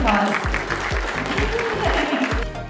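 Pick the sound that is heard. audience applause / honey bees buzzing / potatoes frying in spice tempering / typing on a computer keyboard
audience applause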